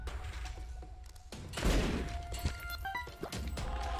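Bomb exploding in a video game, a sharp crash with a short burst of crackling blasts over a low background of game sound, fairly faint overall.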